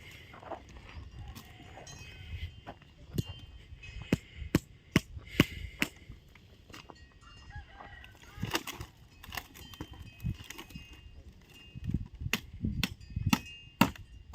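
Irregular sharp knocks of a hammer driving nails into wood while building a small hut, some in quick pairs, with quiet background noise and occasional scraping between blows.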